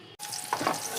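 Curry leaves dropped into hot oil while making a madagalakai palya, a soft crackling sizzle starting abruptly after a brief silence and continuing steadily with small spattering pops.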